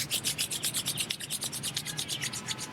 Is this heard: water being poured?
no